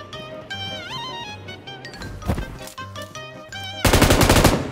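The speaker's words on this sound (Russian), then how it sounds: "В этом мне поможет мой пулемет." A machine gun in the PUBG battle royale game lets off a rapid, loud, sustained burst near the end, preceded by a few isolated shots over tonal game music.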